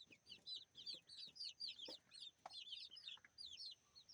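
Brahma and bantam chickens and chicks cluck and peep in quick, repeated bursts, close and fairly quiet, with a few sharper calls mixed in.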